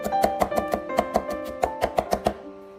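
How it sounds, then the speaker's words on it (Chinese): A kitchen knife mincing crushed garlic cloves on a cutting board, with a quick, steady run of about a dozen close, crisp chops before a short pause. "将大蒜切成蒜末。"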